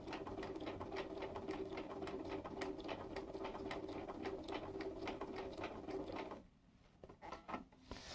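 A Bernina 930 sewing machine stitches along curves, giving off a steady rapid mechanical chatter for about six seconds before it stops, followed by a few quieter clicks and handling sounds.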